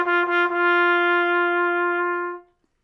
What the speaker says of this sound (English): So when I put it in my trumpet, it amplifies that kind of obnoxious buzz and focuses it into a real sound.